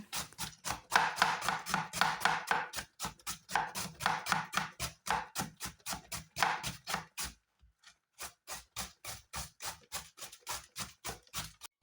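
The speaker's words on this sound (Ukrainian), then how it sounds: "Капустину вагою 2 кг для зручності розрізаю навпіл та шаткую шатківницею" Half of a 2 kg cabbage head is pushed across a cabbage shredder for sauerkraut, giving a steady run of close, crisp rhythmic strokes, each a quick swish, with one brief pause before the strokes resume more evenly.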